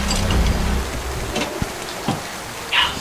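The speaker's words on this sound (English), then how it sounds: "I'm just playing in the rain." Rain patters steadily in a Fallout pinball game, a soft broadband hiss broken by a few sharp impact sounds.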